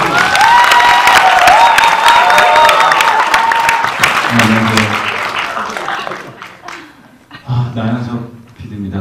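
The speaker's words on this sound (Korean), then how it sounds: "여러분 큰 박수 주세요" A talk-concert audience bursts into loud clapping and cheering for an arriving guest, dense applause with shouts that gradually thins out and gives way to voices speaking over a microphone.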